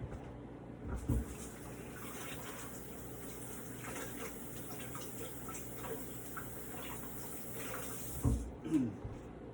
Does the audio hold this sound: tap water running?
yes